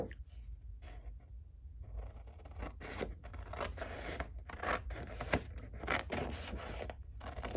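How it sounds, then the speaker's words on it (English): Scissors cutting through a 12x12 sheet of paper, a quiet close series of crisp snips and rustling paper, with short pauses between cuts. "we're going to cut that all the way up the top there"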